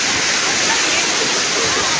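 Waterfall at Chalavara, seen up close from the water: a continuous loud, dense roar of falling and splashing water, steady throughout with no pauses.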